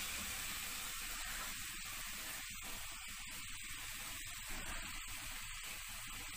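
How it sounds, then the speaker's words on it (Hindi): Two spoonfuls of desi ghee go into reduced carrot halwa in a hot pan, giving a quiet, steady sizzling hiss that runs throughout with no talking. "अब मैं इस पॉइंट पर इसके अंदर 2 चम्मच असली घी डालूंगी"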